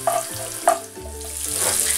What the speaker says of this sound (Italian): In questa ampia padella facciamo rosolare per qualche minuto uno scalogno che ho tagliato a fettine